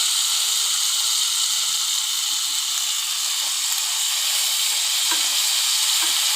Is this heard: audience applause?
no